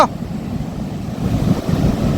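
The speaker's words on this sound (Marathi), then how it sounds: "समुद्र खूप खवळला आहे मित्रांनो, भरपूर खवळला आहे" Rough monsoon-season sea surges in a dense, continuous roar of breaking waves mixed with wind buffeting the microphone, loud and close.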